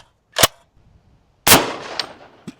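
A gold SCAR rifle firing .308 rounds into a row of pumpkins outdoors: two loud, sharp gunshots about a second apart, the second with a longer trailing echo and faint impact clacks after.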